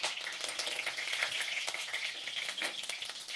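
Meat sizzling and browning in its own rendered fat in a pan, a steady close crackling fry with bright spattering pops and no voices.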